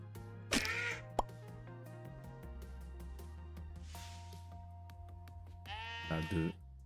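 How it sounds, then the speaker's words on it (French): Sheep bleat in the pixel-art survival game Necesse, with several short bleats over game background music and a few other short game sounds. There is no talking. "Il y a beaucoup de moutons."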